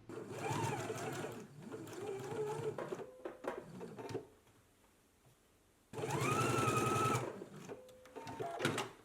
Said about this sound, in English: let's go ahead and do 2 rows of gathering stitches right here at the notches, and then also reinforce this small dot